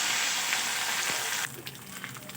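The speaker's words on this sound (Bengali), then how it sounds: "জিরে কাঁচা লঙ্কার আদাটা আমি 2-4 মিনিট একটু তেলে ভেজে নেব" Cumin, green chili and ginger paste frying in oil in a pan, a steady loud close sizzle that drops in level partway through and continues more softly, with no talk.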